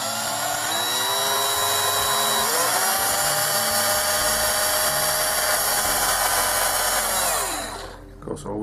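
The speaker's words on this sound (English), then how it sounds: "is to drill a couple of pilot holes." A power drill bores pilot holes into a plate, giving a loud, steady, close whine that holds for about seven seconds before winding down and stopping.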